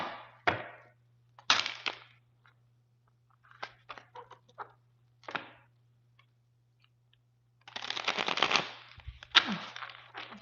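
A Raven's Prophecy tarot deck is shuffled by hand in short crackling bursts of cards riffling and tapping, separated by pauses, with one longer flurry near the end.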